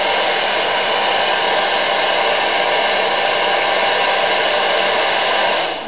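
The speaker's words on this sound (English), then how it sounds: "So this is my blow dryer." A hand-held blow dryer heating mixed media artwork roars with a steady, loud, close whoosh of hot air for several seconds, cutting off at the very end.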